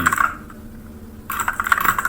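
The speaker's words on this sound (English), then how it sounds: "Why is he fucking beating on the keyboard?" Rapid clattering keystrokes on a computer keyboard, loud and close, in two dense bursts separated by a quieter pause of about a second, with no talking.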